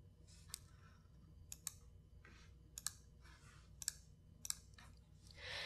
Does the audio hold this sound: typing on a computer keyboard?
yes